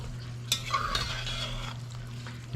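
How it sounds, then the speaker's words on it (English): Mushroom soup being stirred in a pot, a short burst of scraping and swishing with a clink of the utensil, close up over a steady low hum. "Let's stir that up."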